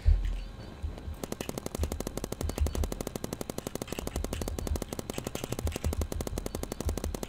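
Rapid, evenly spaced bursts of turret fire in a Roblox paintball game, rattling loud and close almost without pause for several seconds, with a heavier thump near the start.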